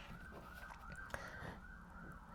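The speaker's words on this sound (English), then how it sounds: "We got a lot of sirens going on out there." Faint police or emergency sirens wailing outdoors at a distance, a rising and falling tone under a quiet room with no talking.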